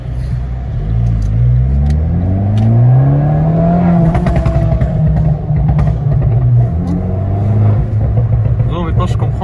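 Fiat 500 Abarth Stage 1 with a full exhaust revs hard and loud, its engine note climbing and falling in sweeping pulls over a steady rumble, close by throughout.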